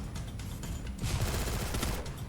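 Rapid bursts of gunfire from a Free Fire battle, close and dense, with repeated shots and a louder volley midway, continuous over a low rumble.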